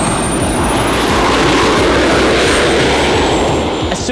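A jet-powered bicycle engine roars loudly and continuously on a coarse gravel desert road, a steady close whooshing turbine drone with a high whine running throughout.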